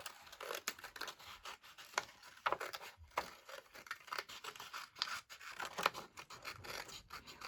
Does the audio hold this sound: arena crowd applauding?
no